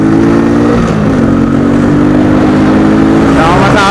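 A Sports R125 Euro motorcycle engine revs up close and loud, pulling into a sustained drone with rising pitch as someone talks over it.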